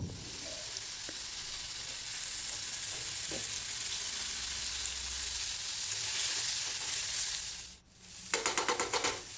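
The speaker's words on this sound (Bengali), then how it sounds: "আগে থাকতে আমি টমেটোগুলো খুব সুন্দর করে ভেজে নেব" Chopped tomatoes frying in a wok, a loud, continuous close sizzle that swells briefly, then dips before stirring scrapes return as rapid clatter near the end; no voices.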